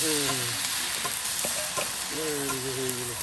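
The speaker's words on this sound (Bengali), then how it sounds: "দিয়ে দেওয়া হলো সেই কুমড়ো, তার সাথে আলু কুচি একসাথে অল্প সময়ের মধ্যে একদম জোরে ভাজা হয়ে যাবে" Pumpkin and chopped potato fry together in a pan over high heat, a strong continuous sizzle with quick stirring scrapes, heard close up with a person briefly talking over it.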